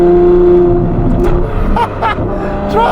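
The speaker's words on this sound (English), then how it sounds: "I'm gonna try and keep the revs up so you guys just hear that V12 bellowing" Novitec Ferrari F12 N-Largo with its V12 engine held at high revs, a loud close droning roar that rises and falls through several shifts in pitch.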